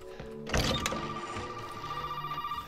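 In the horror video game Resident Evil 7, a telephone rings with a steady electronic tone that holds through the whole stretch, after a heavy thunk near the start. Faint room ambience sits underneath.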